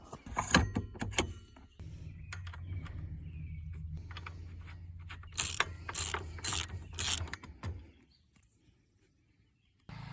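A ratchet wrench clicks rapidly and close by while the wheels come off a Bombardier DS650 ATV, in bursts of fast ratcheting with metallic clanks between them, fading to quiet at the end.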